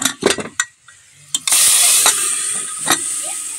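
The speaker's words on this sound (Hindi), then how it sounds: "तो चलिए अब हम इसको छनका लगा लेते हैं।" Tempering of cumin seeds, garlic, red chilli and a little kasuri methi hits hot oil in a pan for a lentil (chana dal) tadka, erupting into a loud, close, steady sizzle after a few clinks of utensils, with no talking.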